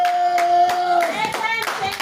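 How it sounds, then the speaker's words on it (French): A church congregation at a praise and worship service claps together in a brief burst of close, continuous applause, mixed with tonal music or singing. "on va continuer à acclamer jusqu'à ce que le pasteur arrive"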